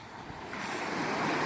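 Sea surf at Shankarpur beach rushes in as a broad steady wash that swells louder toward the end, with wind buffeting the microphone and no voices.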